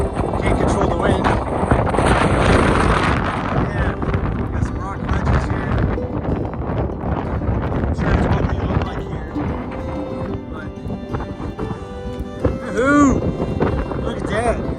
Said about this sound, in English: It's a little windy. Sorry about that. Can't control the wind.